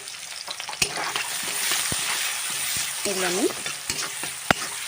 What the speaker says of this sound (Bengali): সেই তেলেই আমি পেঁয়াজ দিয়ে দেবো